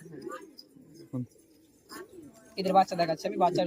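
A male Giribaz pigeon coos in soft low murmurs at close range, joined by someone talking over it toward the end.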